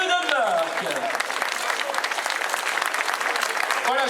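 A crowd applauds a cycling team on the podium at the 2016 Trophée Centre Morbihan race, steady dense clapping throughout, with a voice heard briefly over it at the start.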